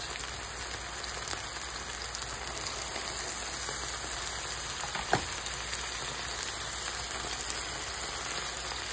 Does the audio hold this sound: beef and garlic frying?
yes